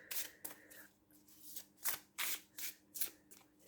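An oracle card deck being shuffled by hand, with close, soft, whispery riffling bursts that repeat in a quick, uneven rhythm and no voices.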